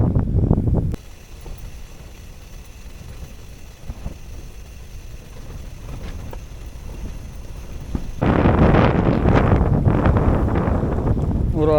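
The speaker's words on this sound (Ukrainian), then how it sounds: "І напевно від цього перепаду температур дуже сильний вітер." Steady low rumbling wind buffets the microphone, growing much louder and gustier toward the end after a brief burst at the start.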